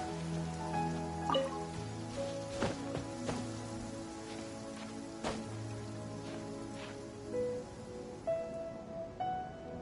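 Steady rain falling in the video game Genshin Impact, a soft continuous patter under a calm melodic music score, with no voices.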